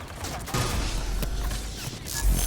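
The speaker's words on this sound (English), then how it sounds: "I hear gunfire." Gunfire in Mass Effect 3 crackles in scattered bursts and pops under a rumbling game soundscape, distant to moderate in loudness.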